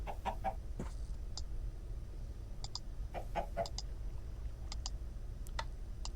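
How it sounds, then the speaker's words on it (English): A cartoon chicken boss called Evil Cluck clucks in a Lego Island video game, with short bursts of clucking and clicking repeated over a steady low game hum, no talking. "Evil Cluck. Really, Evil Cluck?"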